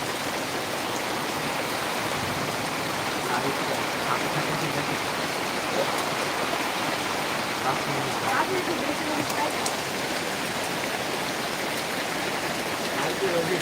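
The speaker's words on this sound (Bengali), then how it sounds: "কি ঝড় কি বৃষ্টি" Steady, dense hiss of heavy storm rain pouring down without pause in Shoshidharpur village, Daulatpur, Kushtia, a constant wash of noise with no clear voices.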